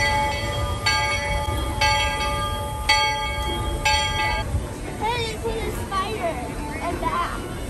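A bell rings out at a Disney park just before morning opening, four evenly spaced resonant strikes sounding over crowd chatter and ambient hum, followed by people talking nearby.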